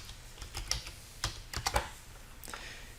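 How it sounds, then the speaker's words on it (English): A command being typed on a computer keyboard, a few quick irregular key clicks in short bursts, close and fairly soft against a quiet room. "So we're going to type restrict."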